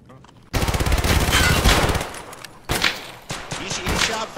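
Gunfire erupts in Escape from Tarkov, a sudden loud burst of rapid close shots followed by further separate bursts and scattered reports, with voices heard alongside.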